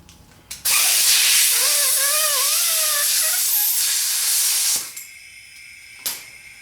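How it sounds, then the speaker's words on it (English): A loud, continuous hiss of compressed air blows out carburetors for about four seconds, then cuts off, followed by a couple of short metallic clanks. "Give it a little shot of air"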